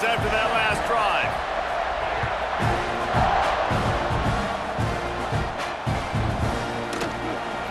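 Stadium crowd in EA Sports College Football 26 roars after a scoring drive, a dense sustained wash of cheering and whoops in a big venue, with a commentator talking over it.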